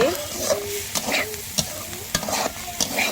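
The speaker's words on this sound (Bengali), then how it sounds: "আমার মতো করে আপনারা সবাই এইভাবে উস্তে ভাজি করবেন" Bitter gourd frying and being stirred in a pan in a village kitchen, with a steady sizzle under repeated sharp scrapes and clinks of the spatula against the pan, close and fairly loud, no talking.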